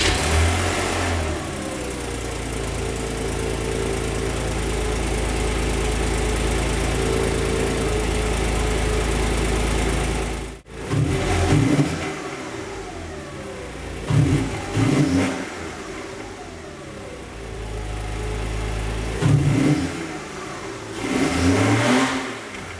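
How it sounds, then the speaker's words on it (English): A Porsche Boxster 986 on its stock exhaust idles steadily, cuts out briefly, then restarts and takes several short revs that rise and fall over a low idle, close and loud with no talking. "So we're gonna listen to the stock exhaust right now."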